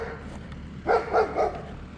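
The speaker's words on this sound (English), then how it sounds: "I got a dog saying hi to me." Dog barking three times in a quick run, fairly close, over outdoor background noise at a site being cleared with fill.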